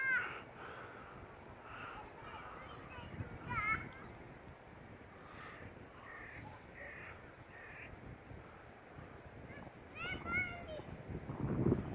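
Crows caw repeatedly across an open field beside an airport runway as they are chased off, harsh calls in scattered bursts over steady outdoor background noise, with children's voices nearby.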